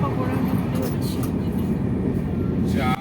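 Interior of the Pune–Howrah Duronto Express while running, a steady low rumble and rattle of the carriage on the rails, close and continuous, with a brief squeal near the end.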